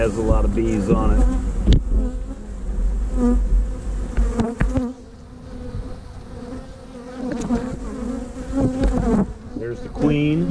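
A dense crowd of honeybees covering a hive frame, a loud constant close buzz with individual bees droning in and out, and a brief dip partway through.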